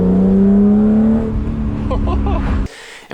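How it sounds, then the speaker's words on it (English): A BMW E36 M3 engine revving hard toward redline on a mountain canyon road, loud and close, with rising then falling pitch sweeps echoing off cliffs before an abrupt cut near the end. "enjoying the engine noises bouncing off the cliffs"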